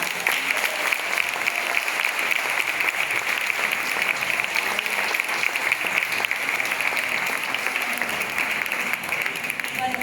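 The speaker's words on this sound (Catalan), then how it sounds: "Vull dir que m'agradaria fer un aplaudiment" Audience applause at a charity concert against breast cancer: dense, steady clapping from a large crowd, loud and sustained for the whole stretch without letting up.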